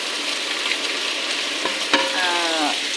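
Sliced bitter gourd (ampalaya) added to a hot frying pan for pinakbet, a steady loud sizzle with a couple of sharp clatters and stirring scrapes.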